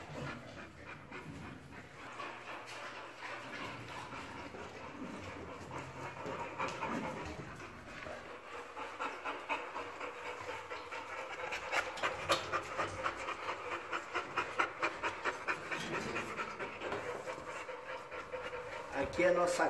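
A pregnant female dog, a kennel breeding bitch due to give birth to her first litter, pants steadily and rhythmically up close, the quick breaths growing louder toward the end.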